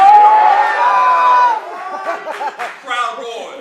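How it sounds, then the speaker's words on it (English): An audience at a poetry cafe lets out a loud, sustained whooping scream, then breaks into scattered overlapping shouts and cheers that rise and fall in short bursts. "Crowd roars."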